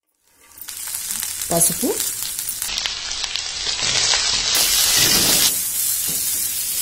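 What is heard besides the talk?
cut green beans added to frying onions in pan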